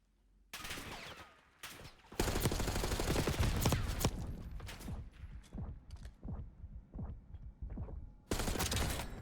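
Bursts of automatic gunfire in Black Ops 6 come in several separate volleys, some close and loud, some lighter and more scattered in between.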